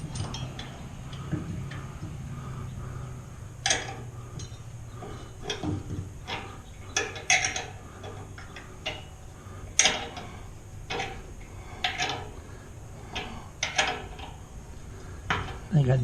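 Metallic clicks and taps from a wrench turning bolts while assembling an Oklahoma Joe's smoker, irregular close ticks and clinks over a low steady hum, with a voice in places.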